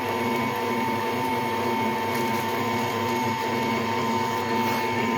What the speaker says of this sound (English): And we're going to kick it up to a little higher speed. Start mixing it in.